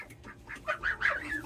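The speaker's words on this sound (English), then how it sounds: "You see all those chickens up there? Those ducks under there?" Ducks and chickens kept together in a homestead pen, with a few short quacking and clucking calls in quick succession, fairly close and moderately loud, no voices.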